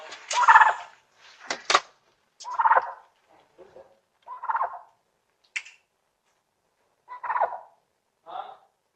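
A turkey gobbles in a series of short, rattling bursts with pauses between, fairly close, with no other sounds in between.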